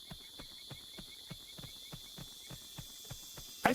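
Horse hooves in Horse Isle 3, a steady clip-clop walking rhythm of about a dozen even thuds, moderately close over a constant high hum, ending in a brief louder sound.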